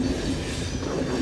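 Interior of a Swiss passenger train bound for Grindelwald, running with a steady low rumble and faint high wheel squeal throughout, loud and continuous with no talking.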